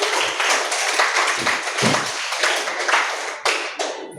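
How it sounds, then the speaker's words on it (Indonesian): A classroom group claps for student groups who have just performed, a dense, close burst of many hands clapping that runs for several seconds and thins slightly toward the end. "kita beri tepuk tangan dulu buat kelompok-kelompok yang sudah tampil"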